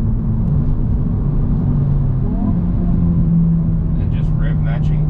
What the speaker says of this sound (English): And just rev matching.